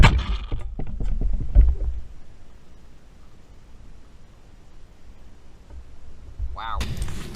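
An air-powered potato gun charged to 70 psi and loaded with BBs fires outdoors: a sharp, loud pop at the start trailing into a low, airy hiss and rumble, with another burst near the end.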